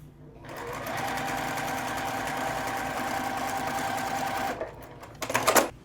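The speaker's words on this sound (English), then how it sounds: "Now you flip it around and you sew down the other side." A sewing machine stitches quarter square triangle quilt pieces in one sustained close whirring run, then stops, followed by a few brief clicks and handling noises.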